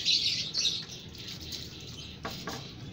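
Several caged competition songbirds chirp and tweet in quick, bright bursts, with a dense run of calls at the start that thins to scattered chirps, moderately close.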